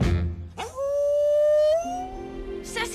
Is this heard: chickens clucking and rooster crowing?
no